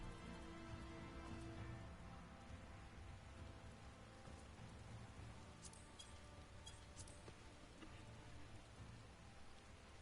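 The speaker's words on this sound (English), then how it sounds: "I feel like I should be able to hear this rain." Steady rain in Final Fantasy XIV patters continuously at a low level, with a few faint clinks partway through and no voices.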